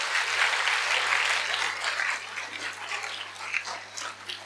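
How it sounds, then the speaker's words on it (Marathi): An audience applauds kindergarten children after their performance at a school annual gathering, a full burst of clapping that is loudest at first and then gradually thins out, with a steady hum underneath. "त्या सगळ्यांसाठी जोरदार टाळ्या होऊन जाऊ दे"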